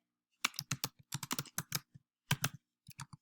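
Computer keyboard keys clacking in quick bursts of typing, a name being entered in a form field, with short pauses between clusters of keystrokes; close and clear, no voices.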